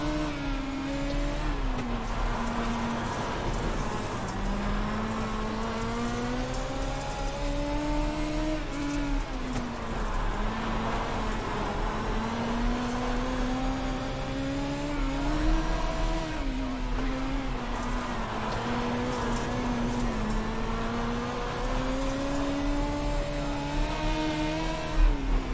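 Dirt midget race car engines in iRacing at Lucas Oil Speedway drone steadily and loudly throughout, their pitch rising and falling with each throttle lift and surge around the dirt oval, with no talk over them.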